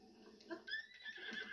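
A horse whinnies in a video game village, a short, quiet neigh with breathy rising and falling tones under faint background ambience.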